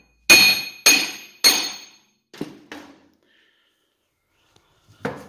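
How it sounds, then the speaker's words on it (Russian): A hammer taps a sprocket into place on a mini loader under assembly: three loud, ringing metallic blows, then two softer taps, a pause, and one more strike. "нужно молоточком вообще рассаживать."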